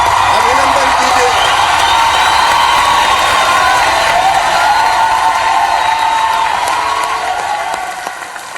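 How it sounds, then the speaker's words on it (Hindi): A large crowd at a startup policy launch event in Indore, India, claps and cheers loudly and continuously, with whoops and shouts rising above the applause before it gradually fades. "तालियां बजा के स्वागत कीजिए,"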